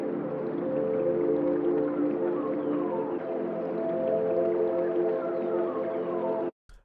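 Foley Fun producer effect, a processed Foley sound: a steady, moaning harmonic drone with gliding whale-like tones that runs several seconds at even loudness, then cuts off abruptly.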